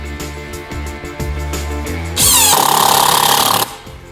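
A cordless screwdriver drives small 4–5 mm screws into wood, starting with a rhythmic ratcheting knock, then a loud whining motor burst for over a second before stopping.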